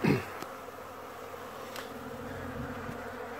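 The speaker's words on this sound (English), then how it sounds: "Just a few bees coming and going" Honey bees buzz steadily at a hive entrance in a soft, continuous drone, with a brief louder buzz at the start as one passes close.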